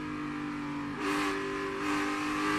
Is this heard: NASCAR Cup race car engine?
yes